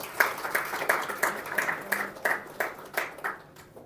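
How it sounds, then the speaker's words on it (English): A small audience at a government meeting gives a quiet round of applause, a few distinct claps spaced in a loose rhythm, faint and somewhat distant. "we all need a very good round of applause for ourselves"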